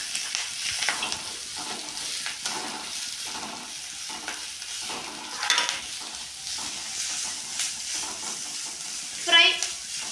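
Grated carrot fries and sizzles in a pan while being stirred, a steady moderate hiss broken by scraping strokes and a brief metallic clink near the end.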